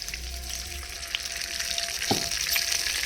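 Hot oil sizzles steadily in a heated wok (kadai) while chicken is being cooked, a continuous close frying hiss with a faint brief clatter partway through.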